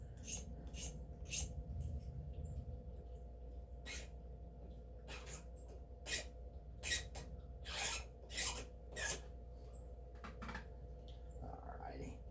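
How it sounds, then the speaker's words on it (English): Paint being scraped off a model train station door, a series of short, faint, close scratching strokes in uneven bursts over quiet room noise, with someone talking. "you just take and you scrape the paint off on the part that you know is going to be"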